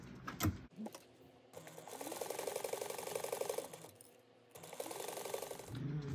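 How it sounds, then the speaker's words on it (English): A sewing machine stitches a fabric seam at 1/8 inch, a rapid even mechanical whir with fine clicking, running in two bursts separated by a short pause after an initial clunk. "we're gonna sew that at 1/8 of an inch"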